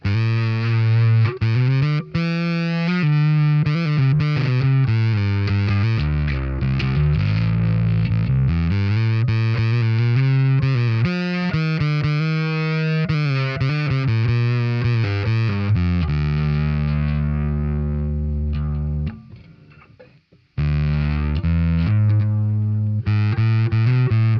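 Heavily distorted, fuzzy electric guitar through a Morley Power Fuzz Wah pedal with the wah off, playing chords and sputtering notes, loud and continuous, with a brief dropout near the end.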